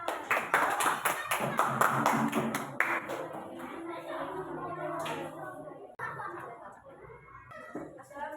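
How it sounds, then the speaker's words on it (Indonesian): A group of students claps for a classroom presentation group, a short burst of rhythmic hand claps that fades as children's voices and talking take over. "Tepuk tangan untuk kelompok 2."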